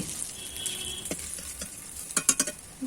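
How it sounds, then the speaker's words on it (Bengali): Eggplant pieces fry in oil in a wok with a soft, steady sizzle, while a spoon stirs them in a few scraping strokes that bunch up loudly near the end. "বেগুনগুলো নেড়ে চেড়ে লাল লাল করে ভেজে নিচ্ছি"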